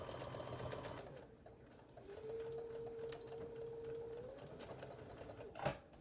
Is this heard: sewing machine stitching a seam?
yes